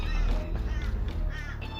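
Crows caw in a brief, close burst, several rough, harsh calls overlapping in quick succession.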